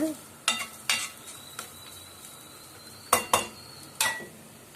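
Grated coconut roasts in ghee with a faint, steady sizzle. A spoon clinks and scrapes against the pan in sharp, separate strikes, close by and with no voices.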